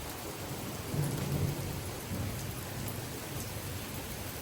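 Heavy downpour during a severe thunderstorm with gusty winds, a dense, steady roar of rain close by with a low rumbling swell, no voices.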